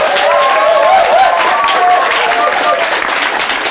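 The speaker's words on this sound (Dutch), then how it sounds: "Mag ik allereerst een warm applaus voor mijn eerste tafelgast" Warm studio-audience applause on a Belgian TV talk show greets a guest, a dense steady wash of clapping with a few whistles and cheers running throughout.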